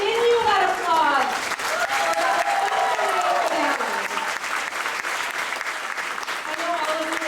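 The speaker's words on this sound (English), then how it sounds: "continue that applause" Sustained applause from a large crowd, continuous and loud throughout, with cheering voices rising over the clapping.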